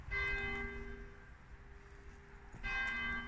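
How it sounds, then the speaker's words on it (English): Church bells of St Andrews Church, Irby upon Humber, ring out in two bursts at moderate distance, fading to a lingering hum between strikes, with no talk over them. "oh, church bells are going."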